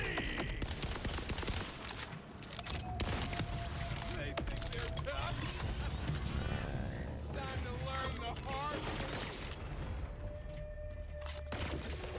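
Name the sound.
turret gunfire in Borderlands 4 video game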